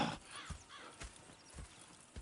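Horses' hooves clip-clop in the video game Red Dead Redemption 2, a few uneven close steps in a short burst with a faint whinny-like tone early on.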